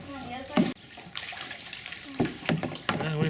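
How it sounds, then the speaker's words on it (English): A canoe is paddled through water inside a tunnel on the way out to a lake. Splashes and sloshing sound close by, and people talk over them. "we're paddling through the tunnel here, trying to make our way out to the lake"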